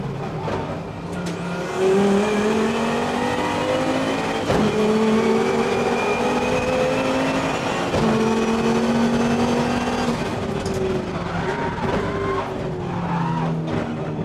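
500hp Volvo race car lapping Bathurst, heard from the cockpit: a loud engine climbing through gears in repeated rising sweeps, with gear changes and tyre noise, no talk.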